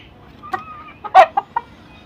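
A few short, sharp clucks from a skittish chicken close by, irregular and separate, over a low background murmur.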